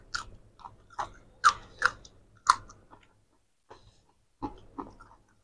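Someone chewing a mouthful of spicy fish curry with rice and pumpkin, close and quiet wet smacking and crunching bites in short bursts separated by pauses.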